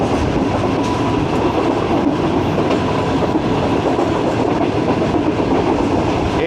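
A passenger train on the Rohri to Lahore route, the 5UP Greenline, rolls along the rails in economy class, with a steady loud rumble and continuous clattering of wheels heard from inside the carriage.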